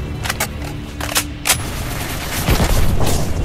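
Gunfire in the first-person shooter video game Anti Terrorist Squad Shooting (ATSS). Several sharp shots crack out in quick succession, followed by a louder, denser burst of firing and booming impacts close up, with no voices over it.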